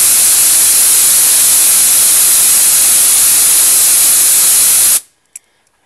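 An air compressor's nozzle blasts air onto hot motor-controller components, making a loud continuous hiss that cuts off abruptly near the end, followed by near silence and a small click.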